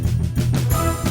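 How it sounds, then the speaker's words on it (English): A MIDI file rendered through Native Instruments Bandstand plays as a short, full band excerpt with steady low bass and sustained tonal layers, loud and continuous with no talking. "And here is the same file with Bandstand."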